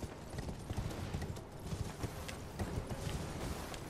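Steady clip-clop of a horse's hooves at a trot in Elden Ring, a continuous close rhythm of dull thuds filling the whole stretch with no voices.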